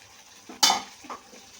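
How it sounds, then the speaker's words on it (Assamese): Fried chicken pieces being stirred into onion masala with curd in a pan, a sharp clatter of utensil against pot near the start followed by softer scraping and a faint sizzle. "চিকেনটো মিলাই অলপ টাইম লৰাই থাকিম"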